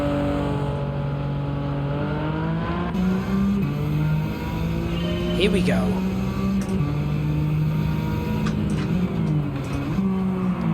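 A tuned Honda Integra engine in Gran Turismo 7 drones steadily, its pitch climbing and dropping through gear changes as the car is driven hard on track, with someone talking briefly over it.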